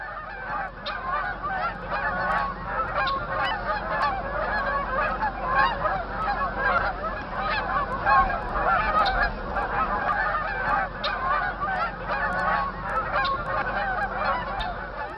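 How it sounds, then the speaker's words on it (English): A flock of geese honking as they fly south over a Wisconsin wildlife refuge marsh, a dense, continuous chorus of many overlapping calls at moderate distance, steady throughout with no voices. "There's nothing like the sight of waterfowl streaming across the sky, talking their way south to indicate that fall has truly arrived."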